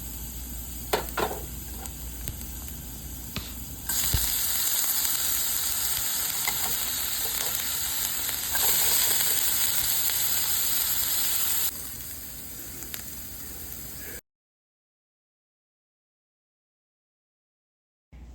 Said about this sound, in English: We're going to hear some nice sizzling in a second.